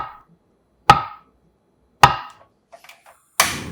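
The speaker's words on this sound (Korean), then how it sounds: "순두부 1개는 정확히 반을 딱 잘라서 부서지지 않게 잘 빼낸 후 반을 자르고 다시 반씩 잘라서 4등분으로 만들어줍니다" A knife cuts through soft tofu (sundubu) on a cutting board, making three sharp, close knocks spaced about a second apart, with faint small clicks between and no talking.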